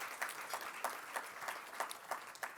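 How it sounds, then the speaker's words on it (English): Audience at a summit opening plenary giving a round of applause, faint and distant clapping with individual claps picking out a loose rhythm, no voices. "Please give them a round of applause as well"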